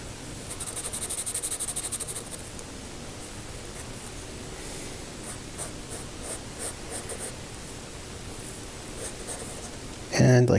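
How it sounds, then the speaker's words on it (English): White pencil scratching and rubbing on paper in a close, continuous scribbling rasp that rises in strokes and pauses, with a few scattered louder scrapes and a sudden bump at the end. "See what happens if I add a little bit of this white pencil."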